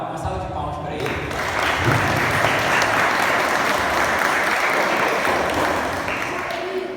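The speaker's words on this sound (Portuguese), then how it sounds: "Uma salva de palmas para ele" A congregation at a Sunday morning church service breaks into steady applause, full and even for several seconds with faint voices mixed in.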